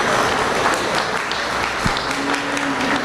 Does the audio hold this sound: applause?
yes